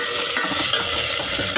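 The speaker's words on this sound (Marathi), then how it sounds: "आता आपल्याला टोमॅटो टाकून घ्यायचे पटकन." Tomatoes go into chicken frying in oil in a pan, producing a steady close sizzle with stirring scrapes throughout the short stretch.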